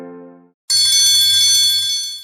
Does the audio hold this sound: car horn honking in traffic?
no